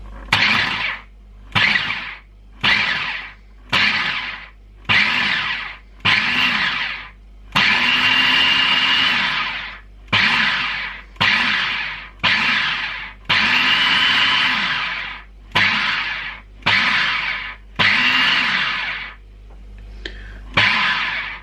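Food processor pulsing a rhubarb crumble mixture into breadcrumbs: about sixteen loud, close motor bursts in an uneven rhythm, mostly short pulses with two longer runs, separated by brief pauses.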